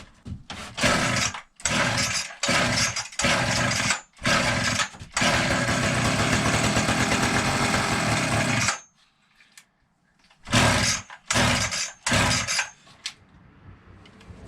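An edge trimmer's small two-stroke engine runs hard at wide open throttle in loud, buzzing bursts, including one sustained stretch of several seconds, then a short silence before more revving pulses.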